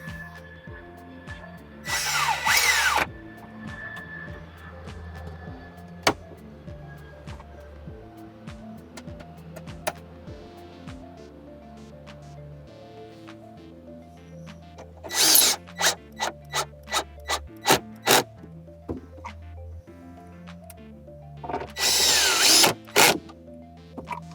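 Power drill driving a bolt during a car stereo install, a loud whirring burst near the start, then a run of quick rapid pulses and two more longer bursts, close and alone over a quiet background.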